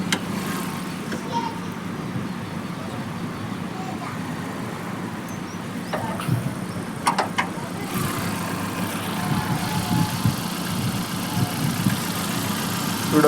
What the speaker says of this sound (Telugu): ఇంజన్ బీటింగ్ మీకు వినిపిస్తాను.